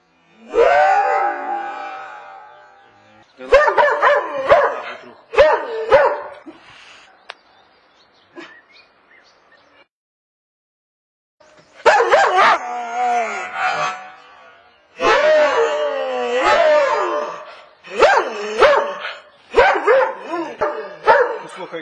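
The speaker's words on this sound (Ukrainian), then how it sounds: "Добрий пес." A dog barks in several bursts of sharp, repeated woofs with short yips between them, fairly close and loud, broken by a quiet gap partway through.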